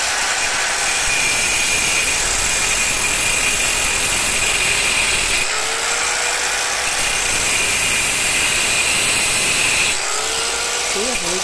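A power tool grinds continuously through a steering bearing race in a loud, steady whine that dips briefly twice as the cut changes.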